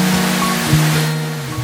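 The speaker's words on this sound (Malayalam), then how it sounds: "തെങ്കാശിയിലെ ഏറ്റവും വലിയ വെള്ളച്ചാട്ടമാണ് കുറ്റാലം വാട്ടർഫോൾസ്" The Kuttalam waterfall in Tenkasi roars as a steady, loud wash of rushing water, with a faint low hum running beneath it for a brief moment.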